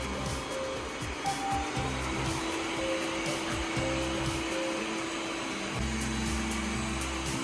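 A Yeedi Vac 2 Pro robot vacuum runs at maximum suction, a steady loud motor whir with a constant broadband rush and a few shifting low tones, continuous throughout with no talk.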